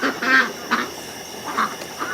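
Ducks quacking by a homestead duck house, a few loud close quacks in short bursts, spaced unevenly over a steady background hiss, with no talk.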